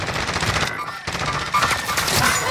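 An enemy fires from above in a video game, sounding as rapid bursts of automatic gunfire that are loud and close, with no talking.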